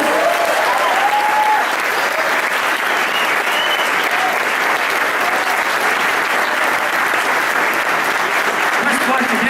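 Sustained, loud applause from a church congregation, a dense wash of clapping that holds at full strength throughout, with faint voices mixed in.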